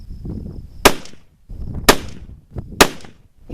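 A Weatherby Compact Hunter .308 rifle firing Winchester 180 grain ammunition: three sharp, loud gunshots spaced about a second apart outdoors, each a crisp crack with a short echoing tail.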